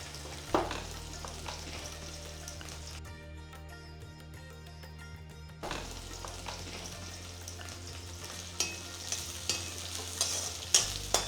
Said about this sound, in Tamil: இப்போ சோம்பும் வெந்தயமும் நல்லா பொரிஞ்சிருச்சு இப்போ வெங்காயம் போடுறோம்